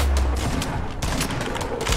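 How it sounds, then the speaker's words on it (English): Rapid gunfire from a shotgun in the Fortnite video game during a tournament match, a dense, loud burst of repeated blasts and crackling shots filling the whole moment with no talk. "Shotgun that guy."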